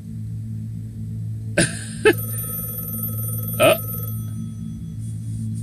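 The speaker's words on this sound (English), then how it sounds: "Now he's having to answer the phone." A telephone rings from a cartoon puppet show playing on a screen, a few short bright bell bursts over a steady low hum, with people reacting around it.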